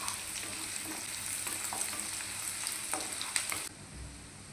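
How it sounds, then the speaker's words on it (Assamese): Finely chopped carrot and onion frying in a pan, a steady sizzle with occasional stirring clicks throughout, cutting off abruptly near the end. "গাজৰটো এতিয়া 1 মিনিটমান সময় কাৰণে ফ্ৰাই কৰি ল'ম।"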